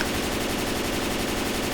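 Rapid automatic fire from an M16 rifle in the zombie shooter Left 4 Dead 2, a continuous fast burst of shots running loud and unbroken throughout.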